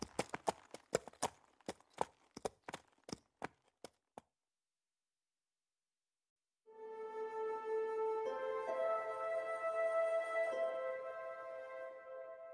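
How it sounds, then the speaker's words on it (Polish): Horse hooves clop in a quick, even series of sharp, close strikes, then after a short silence a drawn-out horse snort or whinny follows, a sound effect in an audiobook scene of a restless, prancing horse. "Koń, poddając się nerwowości jeźdźca, tańczył i parskał."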